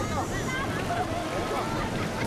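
Ocean waves roar at Drini beach in Yogyakarta, a loud, continuous wash of surf with wind buffeting the microphone throughout.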